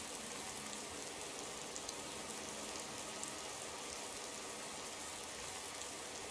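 Steady rain falls in Skyrim, modded with a weather mod, as a soft, even hiss without breaks. Faint and constant, with no voices over it.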